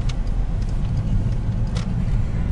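Car driving along roads on Hickam Air Force Base, a steady close engine and tire rumble with road noise throughout and a few brief higher hisses, no talking.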